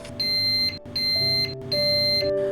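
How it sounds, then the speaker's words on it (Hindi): Geek electric pressure cooker switching to keep warm sounds three clear, evenly spaced electronic beeps, each about half a second long, near and alone with no talking. "आप देख सकते हैं कि बीप का आवाज़ आ गया है"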